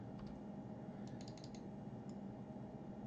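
A few quick light computer mouse clicks close by, faint clicking over a steady low background hiss.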